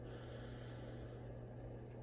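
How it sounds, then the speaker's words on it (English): A long, slow inhaled breath, heard close and steady as an airy rush under a low, constant background hum, with no talking. "Deep breath in."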